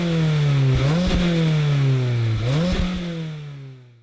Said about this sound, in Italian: Ti faccio sentire prima il sound della mia macchina.